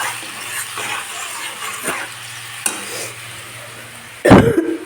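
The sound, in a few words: onion and spices frying in pan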